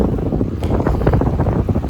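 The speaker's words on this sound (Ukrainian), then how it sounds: "вітер дуже сильний" Strong wind buffets the microphone during a road bike ride in a continuous loud roar with gusty low rumbling and no voices.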